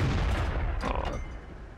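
M18 Hellcat tank destroyer's gun firing in the World of Tanks game: two quick, sharp booming shots close together over a steady low rumble of battle noise.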